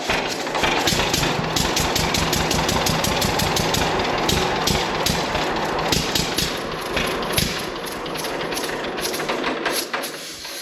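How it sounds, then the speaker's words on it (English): A 1941 John Deere Model B tractor's two-cylinder engine runs loud and close, with a steady, rapid popping exhaust beat that slows slightly toward the end. "I don't know if there's anything as exciting as hearing your old Johnny Popper pop off"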